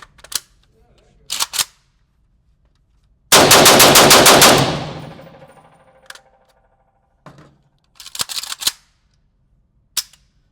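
A rifle fires a few rounds of S&B ammunition outdoors, loud and close: one sharp rapid burst of shots with a short ringing tail, set between scattered single clicks and handling knocks.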